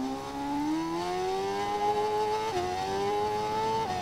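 A 2021 BMW M 1000 RR motorcycle engine revs steadily and loudly up close, its pitch climbing smoothly then dipping briefly twice while holding a sustained high whine throughout.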